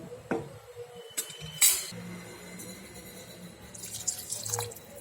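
Water splashes and trickles into a metal pot of vegetables for a South Indian kuzhambu curry amid clinks of utensils, with a steady running pour continuing in the background.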